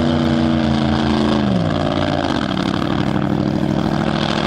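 A land speed race car, number 7707, at an SCTA El Mirage dry lake meet runs rich off the push truck, a loud, close, continuous engine drone whose pitch sags partway through, with no voices.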